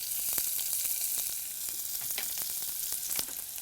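Onion sautéing with cumin in a pan for millet pongal: a continuous dense sizzle and hiss, close and fairly loud, broken by a few soft stirring scrapes.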